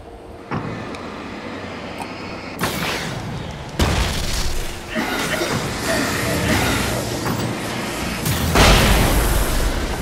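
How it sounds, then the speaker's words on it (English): Fireworks burst in the Alan Wake video game, a run of loud booming blasts and crackling explosions that build over several seconds and layer into a dense, roaring barrage. "Fireworks, nice."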